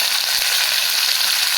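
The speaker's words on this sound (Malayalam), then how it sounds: "എന്നിട്ട് കുറച്ച് കറിവേപ്പില കൂടി ചേർത്ത് കൊടുത്തിട്ട് നല്ല പോലെ ഒന്ന് ഇളക്കാം." Dried red chillies and curry leaves crackle in hot oil as a tempering for Kerala-style rasam, giving a loud, dense, unbroken sizzle heard up close.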